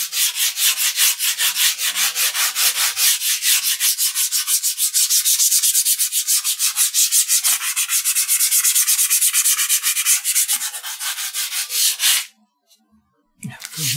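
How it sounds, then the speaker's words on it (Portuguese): A spray-painted guitar finish is wet sanded by hand with 2500-grit sandpaper: rapid, even back-and-forth strokes run close and loud for about twelve seconds, then stop, with a couple of last strokes at the end. "Vou experimentar a lixa molhada aqui, só num pedacinho."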